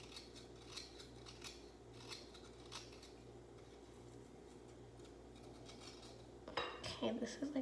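Bath bomb ingredients being cut in a kitchen, with quiet scissor-like snips and light clinks of utensils against dishes, ending in a louder burst of clattering and scraping.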